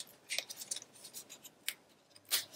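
Scissors cut a diagonal through patterned scrapbook paper, a series of crisp close snips spaced irregularly, quiet with no talking.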